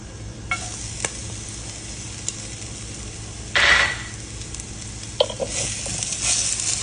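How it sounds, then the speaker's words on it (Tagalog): Bacon and garlic sauté in a pan for a Filipino soup base, a quiet, steady sizzle with scattered utensil taps and one brief louder scrape near the middle, with no talking. "Ang bacon, gagamitin natin sa panggisa."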